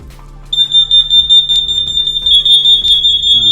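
A smoke alarm sounds on its test button with a piercing, steady high-pitched tone that holds continuously at close range, with faint background rumble beneath.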